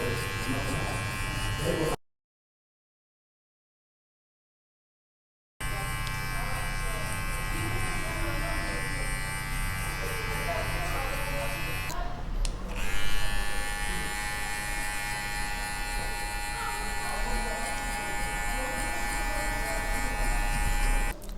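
Electric hair clipper buzzing steadily close up while cutting hair for a mid fade in a barbershop, broken by a brief silent gap, with someone talking over it.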